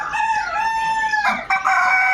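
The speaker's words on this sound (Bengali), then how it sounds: "দেখুন মোরগে বাগ দিচ্ছে।" A rooster crows at a Fayoumi chicken farm, one long, loud, close call that rises and breaks into a second strained phrase, heard alone.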